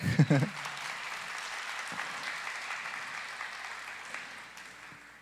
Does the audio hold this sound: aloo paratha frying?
no